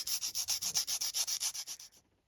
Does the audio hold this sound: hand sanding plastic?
yes